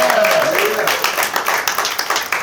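An audience at a confidence summit claps in a quick, scattered patter after a voice fades, the applause staying moderate and fairly close.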